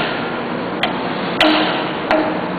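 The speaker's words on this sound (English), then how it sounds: "Now, tap the core and coil assembly inward." Metal taps strike the core and coil assembly of an FMC Syntron vibratory feeder, three distinct knocks spaced unevenly over a steady background noise.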